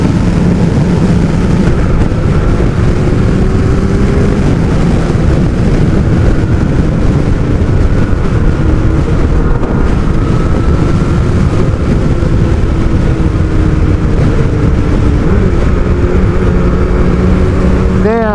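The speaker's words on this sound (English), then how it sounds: "when you roll off the throttle to change gear and then you snap the throttle open once you change gear it's when the stutter happens" A Kawasaki ZX12R motorcycle engine runs loud and close throughout, a dense continuous roar with shifting pitch as the throttle is worked. The engine stutters when the throttle is snapped open after a gear change.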